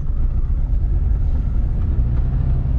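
A manual car's engine pulls away in first gear during a stick-shift lesson, a steady close low rumble that holds evenly at one pitch throughout, with no talk over it.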